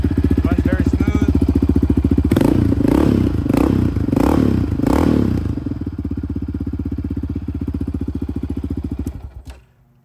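A Yamaha Raptor 700R ATV engine runs close and loud at a steady idle, with several quick throttle blips in the middle before settling back and shutting off near the end.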